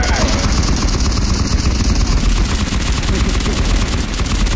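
Sustained machine-gun covering fire in a video game rattles loud and close, a dense continuous stream of shots with an engine-like drone underneath.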